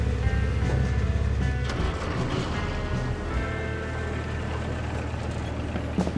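The engine of a 1948 Willys CJ2A Jeep runs at a steady low idle, with a rumbling throb that carries on throughout at moderate volume and no talk.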